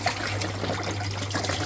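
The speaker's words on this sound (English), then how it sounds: "Look how much water is coming out." Water trickling and splashing as it drains from the emptied water tank of a condenser tumble dryer, a steady close pour.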